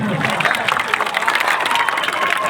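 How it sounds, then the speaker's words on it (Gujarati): A crowd at an Aam Aadmi Party public meeting in Zariya village applauds to welcome a guest, with steady, dense clapping and murmuring voices continuing throughout. "તાળીઓની ગુંજ ઓછી ના થવી જોઈએ."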